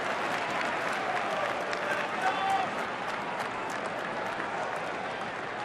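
Crowd noise and applause roll through a baseball stadium during a Braves at Brewers game in Milwaukee, a steady broad roar of cheering and clapping that holds at a fairly even level throughout, with no clear voice on top.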